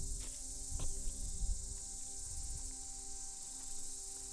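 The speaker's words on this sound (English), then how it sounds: "we were welcomed by the all too familiar symphony of cicadas." Steady, high-pitched droning of cicadas fills the air continuously on a remote Greek island, faint and distant, with occasional soft knocks underneath.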